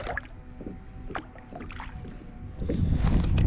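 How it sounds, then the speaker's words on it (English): Paddle strokes and water splashing close by from a small boat on a lake while fishing for panfish, with wind rushing across the microphone and the water sounds growing louder toward the end. "I'm really just paddling today."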